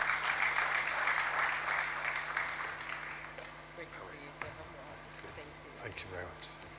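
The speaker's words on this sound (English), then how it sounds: "Please, a round of applause for him." Audience applause at a formal launch event for a national survey and immunization coverage report, loud at first and then tapering off into scattered claps and room noise, with a voice audible beneath it.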